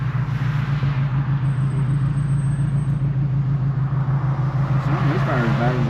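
An idling car engine at a stop on a hot day runs with a steady low rumble and a rough, uneven pulse, with people talking over it.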